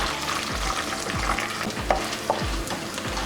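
Spices crackle and sizzle in a hot pan while being stirred for a bottle gourd raita tempering, with repeated scraping strokes about every half second over a constant frying hiss.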